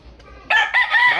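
A chicken clucks and calls loudly and close by in a short burst, with a faint rustle just before.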